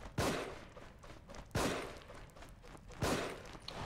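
Gunshots in the survival horror video game The Evil Within ring out as three heavy, booming shots spaced roughly a second and a half apart, each with a short decaying tail.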